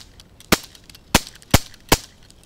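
Four sharp, dry BB gun shots fired at a Bud Light beer can outdoors, evenly spaced about half a second apart, loud and close with quiet background between them.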